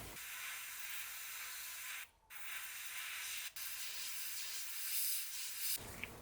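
An airbrush sprays metallizer paint onto a 1/48 scale ICM MH-60L DAP Black Hawk helicopter model in a steady, close hiss, with two brief breaks in the spray.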